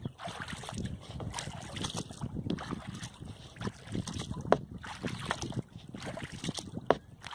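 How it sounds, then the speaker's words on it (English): Paddling a kayak on a Vermont river against wind and current, with rhythmic paddle strokes and splashes over gusty wind noise on the microphone, close and fairly quiet, no talk. "Still current here and wind coming against me, but we'll make some progress."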